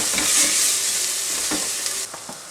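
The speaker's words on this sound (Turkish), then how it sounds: "Şimdi karabiberini, pul biberini ve tuzunu ilave ediyoruz. Bunu karıştırıyoruz." Tomato paste and onion fried in a pan with black pepper, red pepper flakes and salt, stirred steadily with a utensil, giving a continuous close sizzle broken by several sharp scraping strokes, and no voices.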